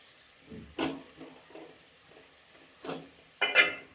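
Onions fry quietly in coconut oil. A soft, steady sizzle runs underneath a few distinct scrapes and clinks as a spoon stirs the pan.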